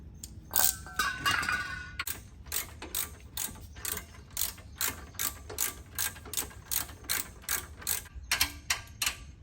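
A ratchet wrench tightens the Loctite-coated brake caliper bracket bolts during a car brake job, giving a long run of rapid, evenly spaced metallic clicks close to the mic, preceded by a brief clank, with no talking.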